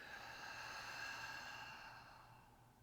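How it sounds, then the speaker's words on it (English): A soft, breathy exhale during a guided meditation breathing exercise, faint and drawn out, fading toward the end. "Make sure you have an audible exhale."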